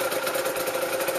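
An Aprilia RS125 motorbike idles nearby, its small engine giving a loud, steady buzzing drone with a fast, even pulse and no talking over it.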